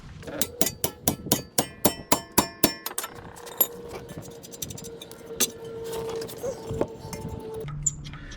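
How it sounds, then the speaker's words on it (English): A tie rod separator works the tie rod end off the steering spindle of a 2002 Toyota Highlander, with a quick run of about ten sharp metallic hammer-like strikes followed by scattered lighter clinks and taps. "Removing the tie rod from the spindle with my tie rod separator."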